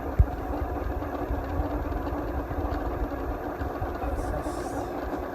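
An SMC Laguna 52 inch ceiling fan with worn-out bearings runs continuously, giving a low, uneven rumbling whir with a faint rhythmic flutter and an initial sharp knock.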